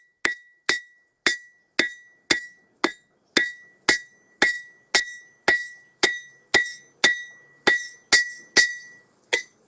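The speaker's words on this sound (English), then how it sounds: "I can use my anvil and hammer to help shape it" A blacksmith's hammer strikes hot iron on an anvil in a steady, evenly spaced rhythm, about sixteen sharp ringing blows with a bright metallic ring, close and loud, with no talk.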